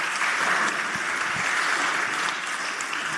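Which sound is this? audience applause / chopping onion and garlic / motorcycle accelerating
audience applause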